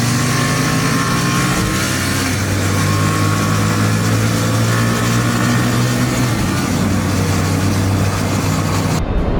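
A BMW G310GS motorcycle engine pulls in fifth gear at about 3000 rpm on an uphill climb, a loud, steady drone that rises smoothly in pitch, with no talk over it.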